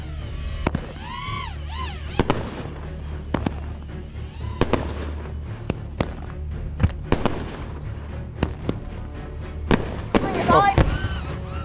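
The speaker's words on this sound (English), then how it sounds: "So what does it actually look like to be in the middle where all the fireworks are exploding?" Dense fireworks display heard from right in the middle of the launch area: a continuous roar of sharp bangs, crackles and whistling shells, loud and close, with overlapping booms throughout.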